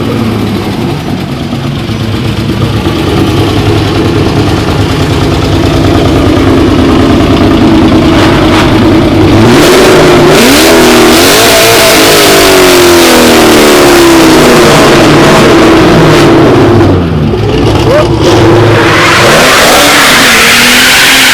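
A Ford Mustang engine idles loud and close, then revs repeatedly in rising and falling bursts before settling back, with no voices.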